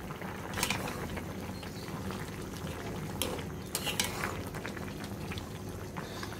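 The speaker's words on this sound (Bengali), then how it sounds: "এখন আমরা তরকারি বলক চলে আসছে" A thin curry of gourd shoots, catfish and potatoes comes to a boil in a pot, a soft steady bubbling with occasional clinks of a utensil against the pan, close and quiet, no speech.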